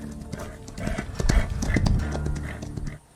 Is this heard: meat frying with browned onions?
no